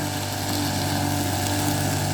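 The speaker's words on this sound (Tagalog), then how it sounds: "First time niya talaga pong gumamit ng grass cutter." A grass cutter engine runs steadily with a dense, buzzing drone, loud and close, with no breaks and no voices over it.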